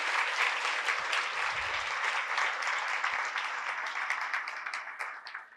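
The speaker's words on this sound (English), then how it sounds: "Let's give them another round of applause." Sustained, dense audience applause at a pro-life awards event fills the room, loud and even throughout, tapering only slightly at the end.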